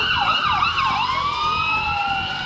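An ambulance siren wails outside a store during a live event, its rising and falling tone sweeping steadily and holding fairly loud for the whole stretch, with no speech over it.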